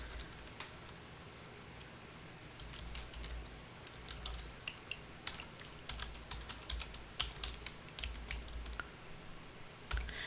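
Soft, quiet keystrokes tap on a computer keyboard in irregular bursts, growing busier toward the end, with no one speaking.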